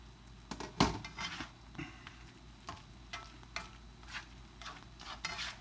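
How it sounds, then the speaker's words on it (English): A mix of vegetables in tomato sauce with spices simmers and sizzles on a stovetop, with a soft steady crackle and occasional faint stirring ticks heard up close and no talking. "I'm going to let that simmer for a while, again 5 to 10 minutes, thoroughly cook through"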